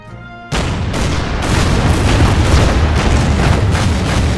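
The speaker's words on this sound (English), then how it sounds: "The mortars are getting annoying." Mortar fire in the strategy video game Order of Battle Pacific: a sharp onset followed by a dense, continuous roar of booming artillery-like blasts, loud and sustained with no talk.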